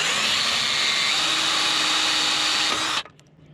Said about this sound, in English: But I do have a cordless drill, so let's see what we can do here.